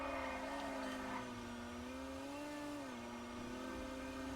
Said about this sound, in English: it's got a really waspish sounding engine